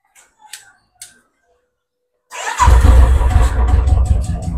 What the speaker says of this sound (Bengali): জাস্ট খুলেই স্টার্ট, একদম একটা সিঙ্গেল টাচে স্টার্ট হয়ে গেল।